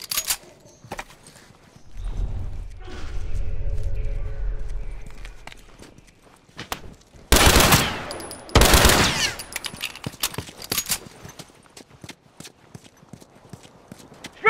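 Rifle gunfire in a shooter video game cracks out in two dense bursts amid scattered sharp shots, with galloping hooves and a low rumble earlier and brief voices in the mix.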